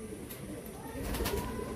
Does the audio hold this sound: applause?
no